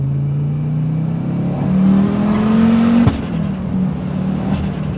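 A 600 hp turbocharged Audi S2 engine revving up in rising pitch, a sharp shift-like break midway, then pulling again, loud and close with a steady drone.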